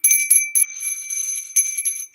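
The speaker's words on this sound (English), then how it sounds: "Now ring the bell" A small bell rung during a candle-lighting ceremony, several bright ringing strikes in quick bursts with a sustained high tone between them, close and clear without talk.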